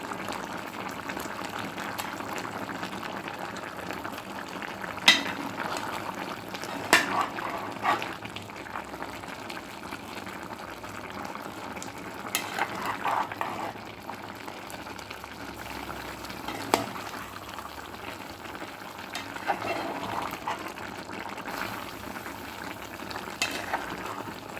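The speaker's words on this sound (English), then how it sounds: "Alright, then I'm going to give this a stir" Jamaican coconut curry chicken stirred in a pot, a steady low simmering bubble with soft scraping and occasional sharper clinks of the spoon against the pot, no talking.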